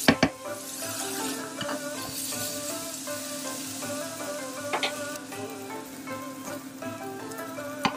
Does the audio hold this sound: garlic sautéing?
yes